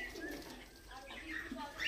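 Teddy pigeons in a loft coo softly and steadily, with a faint chirpy edge over low background noise, and a voice murmurs now and then underneath.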